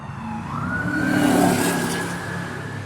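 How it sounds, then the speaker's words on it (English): An emergency vehicle siren wails past in the distance, its rising and falling tone sweeping steadily with the rumble of traffic beneath, moderately loud and unaccompanied by talk. "We got sirens."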